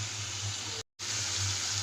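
Water pours steadily into a cooking pot while a pumpkin-flower dish is prepared, a continuous close rush broken by one brief gap, with no talking.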